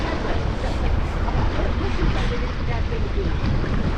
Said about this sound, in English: So it's nice to be on Caesar's Ghost and under sail.